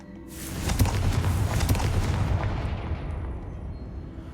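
A Confringo spell blast in Hogwarts Legacy erupts in a loud, booming explosion with crackling bursts, then rumbles and slowly fades over a few seconds.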